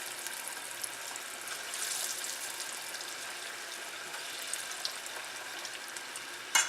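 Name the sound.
chickpea falafel balls deep frying in oil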